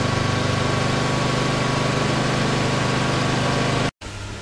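A Honda generator running on full load, a loud steady engine hum with a tonal whine that drops out abruptly near the end and resumes at a lower level.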